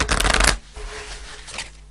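Fairy oracle cards are shuffled in a quick, loud riffling burst lasting about half a second, then fainter soft card rustles follow in the quiet.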